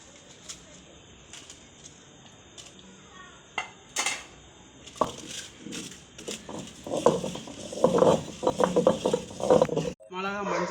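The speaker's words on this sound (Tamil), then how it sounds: "இந்த மாதிரி உரல்ல அரைச்சி சாப்பிட்டு பாருங்கள்." Red chillies ground with rock salt in a traditional stone mortar (ural) for peanut chutney: scattered stone knocks at first, then a close, steady run of rough scraping and crunching strokes that grows louder before stopping abruptly.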